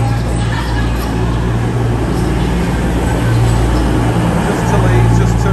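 A train pulls into a platform at Sheffield station, a steady loud rumble of engine and wheels with a low droning hum, while people talk nearby.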